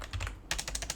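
A short burst of quick keystrokes on a computer keyboard while a Wi-Fi password is entered, close, crisp clicks in two brief clusters, no speech.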